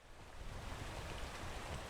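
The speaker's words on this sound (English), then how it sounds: "No, okay, that's rain." Rainfall in the video game Peak makes a dense, continuous hiss of broadband patter that swells slightly early on and then holds steady, with no speech.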